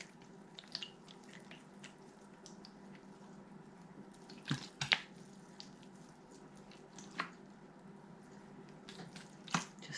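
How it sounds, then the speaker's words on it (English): Water is sprayed from a hand sprayer onto freshly sown seeds in wet compost topped with vermiculite, as a few short, soft hissing bursts spaced apart in a quiet indoor room. "I will just give it a little bit of a spray with this"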